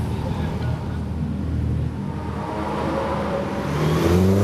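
Race cars pulling away at Magny-Cours circuit, a steady engine drone with rising revs near the end, voices talking over it.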